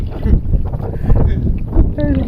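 A small motorboat engine runs on water in the countryside, a low, rough rumble steady and close, mixed with wind noise and splashing.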